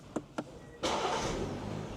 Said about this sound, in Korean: 시동 한번 걸어 보세요